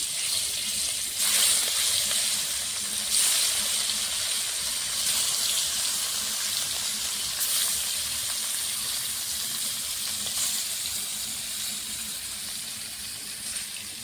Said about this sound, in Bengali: তেলটা গরম হয়ে গেছে, মেখে রাখা মাছগুলো ভেজে নেব